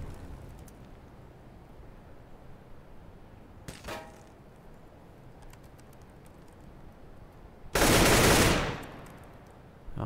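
Gunfire in a Counter-Strike match on de_cache, with a short burst near four seconds and a loud, sustained broadband volley around eight seconds over low game ambience.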